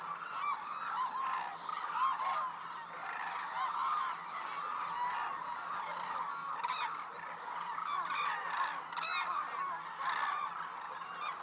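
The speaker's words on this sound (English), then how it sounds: "One species in particular, the hooded crane, makes up the majority of birds here." A large wintering flock of hooded cranes at Izumi, Kagoshima, calls continuously, a dense chorus of overlapping honking cries from many birds that carries steadily throughout with no voices.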